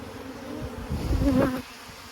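Honeybees hum close by around an opened hive frame, a soft, wavering buzz that swells and fades over about two seconds, with no voices.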